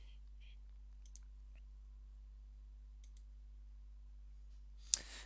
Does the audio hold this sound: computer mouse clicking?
yes